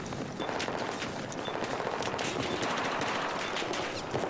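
Rapid automatic gunfire in the video game Battlefield 4 during a competitive match, with dense, continuous bursts of shots and distant explosions throughout.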